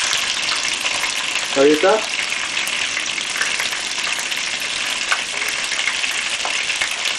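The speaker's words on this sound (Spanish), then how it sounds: "Al pollo que le hemos echado sal, le estamos poniendo en la sartén para freírlo" Salted chicken pieces fry in oil in a pan, giving a loud, continuous sizzle that hisses steadily throughout, with a brief voice speaking near the start.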